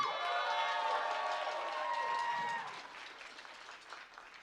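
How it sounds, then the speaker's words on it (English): An audience at a drum event claps together in a steady wash of applause with a few cheers, which fades to scattered lighter clapping after a couple of seconds. "give the biggest round of applause you possibly can for this young lady over here"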